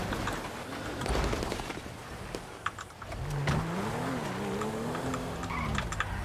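A car engine sounds nearby, its tone rising and wavering as it revs, with scattered clicks and rustles around it during a tense roadside stop.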